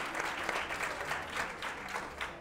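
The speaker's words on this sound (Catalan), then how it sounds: "Aplaudiment, aplaudiment." Audience applause in a Catalan television word-game show studio, a dense, steady clatter of clapping hands lasting the whole moment with no voices.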